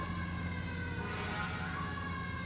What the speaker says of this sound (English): I'm sorry for the sirens. It's outdoors.